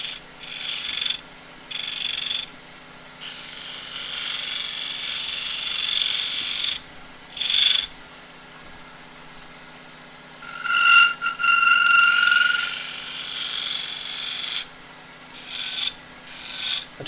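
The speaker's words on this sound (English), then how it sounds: "I don't normally scrape round here, but I'm going to scrape just for a minute." Scraping on a monkey puzzle end grain wood bowl on a lathe, a steady rasping scrape in several bursts of a few seconds each with brief pauses between, close and fairly loud.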